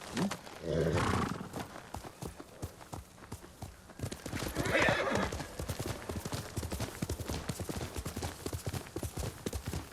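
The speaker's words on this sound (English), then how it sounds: "Gonna call my horse to me." A horse in the game Ghost of Tsushima gallops in with rapid hoofbeats and lets out a couple of neighs, the hooves drumming steadily with light ambient sound behind.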